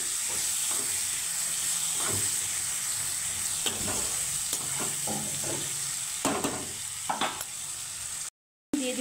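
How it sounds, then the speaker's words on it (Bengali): Fish roe fries in a pan with salt and turmeric under a constant hiss of sizzling, while a spoon stirs and scrapes in scattered clatters and strokes, up close and moderate in level. "এইটাকে হলুদ নুনের সাথে ভালোভাবে নাড়িয়ে ছেড়ে নেব"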